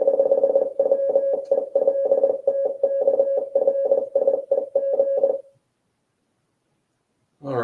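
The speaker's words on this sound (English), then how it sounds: "Let's hear the nice little Morse code." A steady single-pitched Morse code sidetone from a radio keys out a long run of dots and dashes for about five seconds, clean and loud, then stops into silence before a voice begins.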